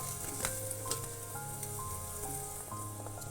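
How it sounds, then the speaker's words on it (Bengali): Chopped potatoes and onion fry with spices in a pan for sambar, a steady close sizzle with brief stirring clatters on top and no speech. "খানিক্ষণ ভেজে নেওয়ার পর ছোট করে কাটা আলু দিয়ে দিচ্ছি"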